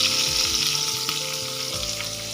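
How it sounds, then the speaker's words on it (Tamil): Mustard seeds spluttering in hot oil in a kadai for kollu rasam, a close, continuous crackle and sizzle with quick popping bursts. "கடுகு நல்லா பொரிஞ்சு இப்போ கொஞ்சோண்டு பெருங்காயம் கொடுத்துக்கோங்க"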